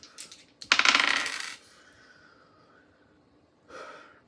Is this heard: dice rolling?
yes